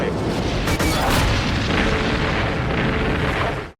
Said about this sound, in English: Tanks fire from the ground while helicopters drop bombs,